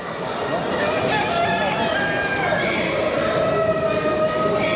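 A rooster crows and chickens cluck at a poultry exhibition in Bucharest among Italian breeds, the calls rising over a busy hall background while someone talks.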